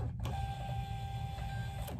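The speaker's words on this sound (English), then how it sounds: "Why is it printing out like that," Rollo thermal label printer feeding out a shipping label, a close, steady mechanical whir with a faint tonal whine, short clicks at the start and end, and no talking.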